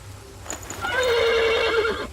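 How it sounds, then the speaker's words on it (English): A horse whinnies in The Pillars of the Earth game, a rising, wavering neigh lasting about a second over a low ambient hum, preceded by a faint clop. "The horse nearly woke the guard."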